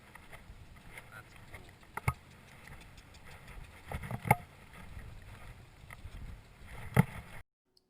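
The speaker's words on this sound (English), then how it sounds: "the wind is really bad in this scene" Wind buffets a microphone beside a small lake while fishing for bullhead catfish at Lake Arrowhead, California, a steady low rumble with a few sharper gusts and knocks, then abrupt silence at the end.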